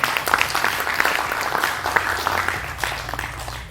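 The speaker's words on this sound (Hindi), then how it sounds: "इस बात पे ताली बजाएगी" Audience applause at a talk event, dense steady clapping filling the whole stretch at moderate loudness.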